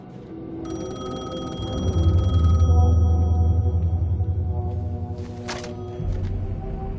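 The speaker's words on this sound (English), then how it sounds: "payphone was ringing." A payphone ringing in the video game Alan Wake 2, its electronic bell trilling loud and close for several seconds over a low humming ambience, followed by a sharp click as the ring cuts off.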